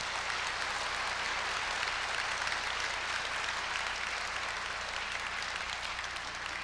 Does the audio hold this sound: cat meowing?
no